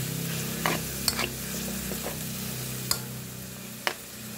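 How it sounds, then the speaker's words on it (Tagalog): Pork in oyster sauce and water is stirred in a pan, a quiet close sizzle with a low bubbling bed and a few sharp spoon clicks against the pan. "Tapos haluin natin."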